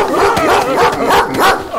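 A dog barks repeatedly in close, loud, rapid bursts, the barks overlapping and crowding the scene in an Ilocano drama.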